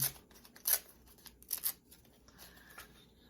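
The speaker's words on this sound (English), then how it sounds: "Tear out the word card." A paper word card is torn out, heard as a few short, crisp ripping and snipping bursts spaced irregularly, close and fairly loud against a quiet background.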